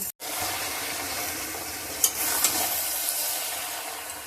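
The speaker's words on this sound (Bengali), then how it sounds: "চিনিটা দিয়ে নাড়াচাড়া করে নিলাম।" Shukto being stirred in a pan after sugar is added, a steady close sizzle and scraping with a few brief clinks, no voices.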